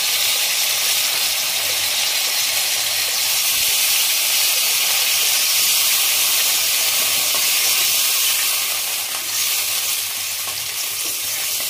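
Water poured into a hot pan while cooking dudh shukto, a Bengali milk-and-vegetable dish, sets off a loud, steady, close hiss of steam and sizzling that fills the whole stretch without pause.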